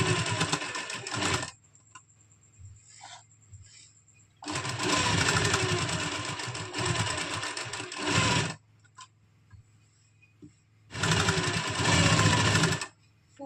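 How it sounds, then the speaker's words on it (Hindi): A sewing machine stitches rep tape onto the neckline of a boat neck kurti in three loud, steady running bursts, separated by quiet pauses with faint handling sounds. "पूरे में हमने इस तरह से रेप पट्टी पे सिलाई लगा लेनी है।"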